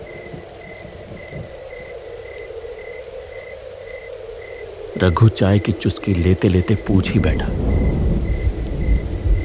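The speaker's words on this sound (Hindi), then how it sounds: "हल्की हल्की बारिश शुरू हो गई।" Light rain falls steadily outdoors, then a loud, close crack of thunder breaks out and rolls on for several seconds, with someone narrating over the storm throughout.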